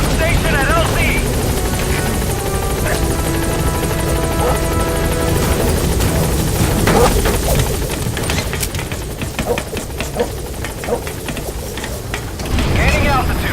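A helicopter lifts off in the video game Metal Gear Solid 5, its dense rotor thump and turbine whine loud and steady throughout, with clattering game effects layered over it.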